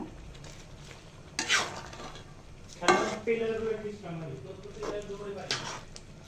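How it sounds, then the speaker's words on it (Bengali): Spinach is stirred in a cooking pot with lentils. Several distinct clanks and scrapes of a spoon against the metal pot come over a low sizzle, and a voice talks between them. "পালং শাক দিয়ে নাড়াচাড়া দিয়ে নিব"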